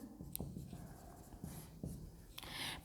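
Pen writing by hand on paper, a series of short scratchy strokes with brief pauses between them, close and fairly quiet, alone without talk.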